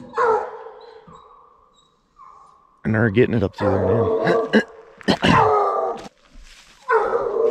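Young hound dogs bay and yip while running a track outdoors, several voices overlapping in bursts at mid distance, with someone talking in between the cries.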